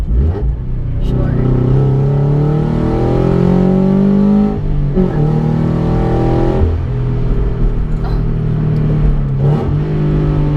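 A 2013 Scion FR-S accelerates hard through the gears, the engine note climbing steadily, dropping at each shift near four and six and a half seconds, then rising again, loud from inside the cabin with people talking.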